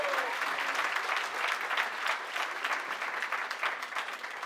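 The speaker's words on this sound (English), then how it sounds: "give yourselves a round of applause for making the trip down here" Wedding guests applaud at a reception during a best man's speech, a dense, even roomful of clapping that holds steady for several seconds.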